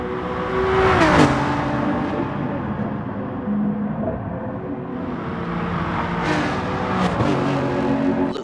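Race cars, a Lexus and a BMW M4, in a Gran Turismo championship final, engines droning and shifting pitch as they accelerate and pass close by, loud and continuous with no talk.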